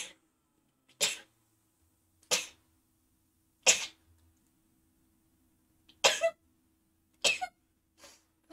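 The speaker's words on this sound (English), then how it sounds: "I need to sneeze." A person sneezes repeatedly, about seven loud, abrupt bursts spaced a second or so apart, each followed by silence, close to the microphone with a faint steady hum underneath.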